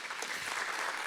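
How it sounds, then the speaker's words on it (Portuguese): Applause from an audience at a women's church celebration, a steady patter of many hands clapping, fairly soft and even with no voices over it. "Pode aplaudir, gente."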